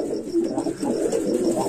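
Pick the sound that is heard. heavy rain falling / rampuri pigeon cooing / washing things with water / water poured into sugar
rampuri pigeon cooing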